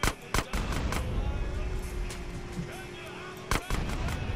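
Gunfire in GTA San Andreas: a few sharp, loud shots stand out at the start and again near the end, over a steady rumbling game background.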